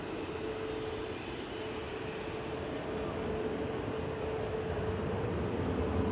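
A Ryanair airliner departs Manchester Airport for Belfast, its jet engines a broad, steady roar that holds and slowly swells, heard from a distance.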